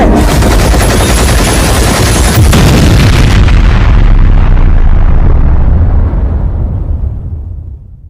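A cartoon explosion blowing something up: a huge, loud continuous roaring blast with crackling debris that rumbles on for several seconds before slowly fading out.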